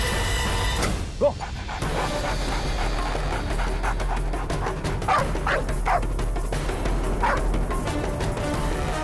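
A dog barks and pants nearby in a Hindi courtroom-drama scene, short woofs and yips over steady breathing with a low background rumble, people speaking around it.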